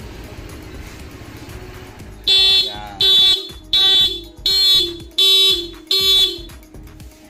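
Six loud, evenly spaced car horn alarm blasts from a car's remote alarm as the engine cuts out and hazards flash, in a steady rhythm after a quiet background hum.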